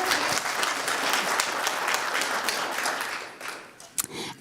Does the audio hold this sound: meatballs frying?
no